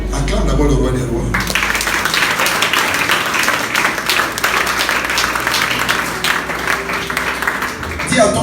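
A church congregation breaks into sustained, dense applause after a brief spoken line, clapping loudly and evenly for several seconds before fading as a voice returns.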